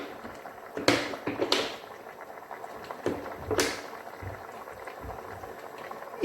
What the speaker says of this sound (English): I'm just going to pour in my desired quantity of oil.